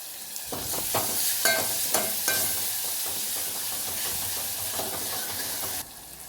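Finely chopped tomato fries with onion and ginger-garlic paste in oil, a constant close sizzle broken by several scraping stirs of a spoon, the hiss dropping slightly at the end.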